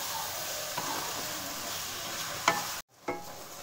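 Onions cooking in a pan for chicken do pyaza, a soft steady sizzle with a couple of faint stirring scrapes and a brief cut to silence near the end.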